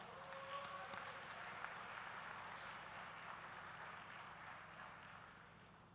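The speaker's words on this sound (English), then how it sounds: "Give yourself a big round of applause." A graduation convocation audience at the Manipal Academy of Higher Education Dubai campus claps in a sustained, dense round of applause that fills the hall and slowly fades, heard faintly and at a distance.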